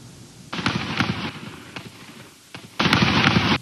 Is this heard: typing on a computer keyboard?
no